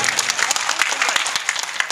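An audience at an outdoor Urdu mushaira claps loudly and enthusiastically, crisp individual claps layered into a dense, lively round that carries on throughout.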